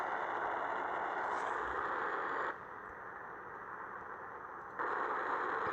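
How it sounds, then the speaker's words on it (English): Rocket engines fire up in the Spaceflight Simulator game for a moon rover launch: a loud, steady broadband roar that drops briefly to a softer rumble midway before surging back to full force. "We started up the engines."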